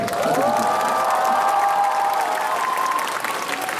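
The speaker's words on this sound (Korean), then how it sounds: "끝날 때까지 박수와 함성 멈추지 말아주시고" A concert audience in Gwangju claps and cheers steadily, a sustained crowd roar with shouted voices rising over the applause for nearly four seconds.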